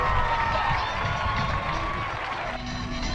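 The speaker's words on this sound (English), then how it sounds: "the crowd goes insane" A crowd at a halftime show in a football league final in Meghalaya cheers and shouts loudly in a steady wash of noise, with some scattered clapping mixed in.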